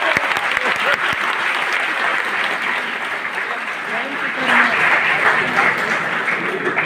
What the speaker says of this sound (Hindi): सो सर के लिए पहले एक जोरदार तालियां।